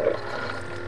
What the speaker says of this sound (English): And that noise, that's the pump.